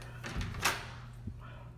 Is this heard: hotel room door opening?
yes